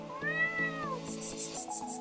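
A cat trapped in a sewer meows once in a long drawn-out cry, followed by shorter repeated meows alongside a steady beeping tone, fairly close.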